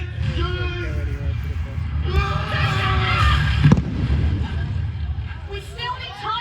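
A cannon fires during the Warwick Castle show: one sharp, loud boom midway through, heard over steady crowd chatter and people talking.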